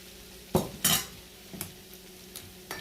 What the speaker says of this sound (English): go ahead and drop your scrambled eggs in the center